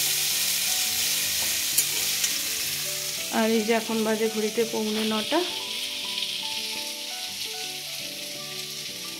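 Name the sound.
cauliflower frying in a pan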